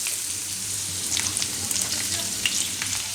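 Onion and garlic frying together in a pan, a steady close sizzle with soft crackles and faint stirring scrapes, no talking.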